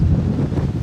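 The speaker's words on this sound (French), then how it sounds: "Désolé pour le vent, là il y a des rafales." Heavy wind roars across the microphone in a steady, loud low rumble throughout the short moment.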